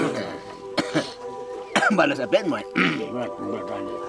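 The tribe's healer coughs in a jungle village on a remote Southeast Asian island: three harsh, close coughs at roughly one-second intervals, with people talking between them.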